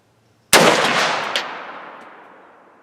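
A single sharp gunshot from a scope-mounted SKS rifle fired at a paper target, loud and close, its report decaying into a long rolling echo over about two seconds.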